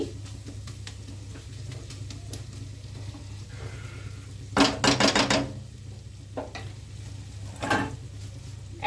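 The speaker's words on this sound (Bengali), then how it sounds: "পেঁয়াজ, আদা রসুন, কাঁচা লঙ্কা ভালোভাবে একসাথে ভেজে নিচ্ছি।" Onion, ginger, garlic and green chilli fry together in a pan, a low steady sizzle and hum broken by a few short bursts of spoon stirring and scraping.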